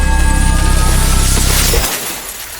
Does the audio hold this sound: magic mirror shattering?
yes